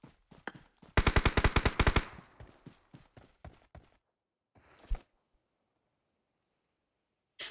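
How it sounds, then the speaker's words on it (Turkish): Gunfire in the PUBG Mobile video game during a tournament match: a few single shots, then a sharp one-second automatic burst, more scattered shots and a lone later crack, loud and close with quiet gaps between. "Burada isə rəqibinə doğru mərmiləri yollama çalışır."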